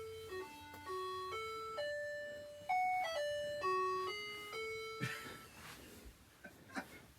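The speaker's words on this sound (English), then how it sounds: "You want to hear our cool doorbell?" A vintage bus's electronic doorbell plays a multi-note chiming melody, clear tones ringing one after another for about five seconds before fading into background noise.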